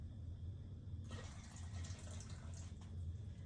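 Liquid mixture with grape jelly poured into a bowl for a Jamaican Easter spice bun, a soft continuous trickle starting a second in, close and steady over low background rumble.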